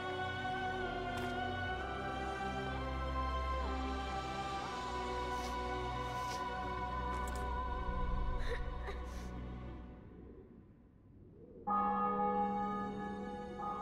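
Church bells toll in the fantasy game The Witcher 2: Assassins of Kings after a city and fortress are taken, a sustained resonant peal ringing on at moderate level, fading briefly before another strong bell strike.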